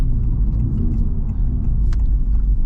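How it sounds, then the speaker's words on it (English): A 2023 Honda Civic Type R's engine rumbles loudly and close during a downshift rev match, a low, steady drone with a brief rise in pitch, heard alone without voices. "up here about to see the rev match"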